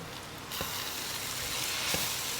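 Duck curry masala with fennel powder sizzling in a pan, a steady close hiss of frying with a couple of soft stirring knocks, heard alone without talk.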